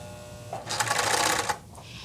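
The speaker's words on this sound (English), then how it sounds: "These machines have a tendency to move fast. It's okay to stop and readjust as we are sewing." A blind hem sewing machine stitches through fabric in a fast, continuous rattling burst of about a second, close and clear with no talking.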